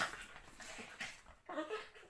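Several dogs whimpering softly indoors, a few faint whines and yips in short bursts, quiet and somewhat distant.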